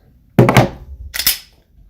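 Chambering a round in a Glock 27 .40 caliber pistol: a quick metallic slide rack, a clack back followed by a snap forward, close up and fairly quiet with no talking.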